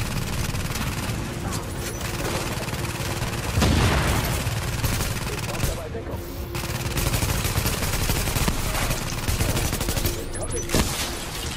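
Sustained gunfire and explosions from the shooter game The Division, with dense overlapping bursts and a heavy boom near the middle, loud throughout and mixed with a voice talking over the action.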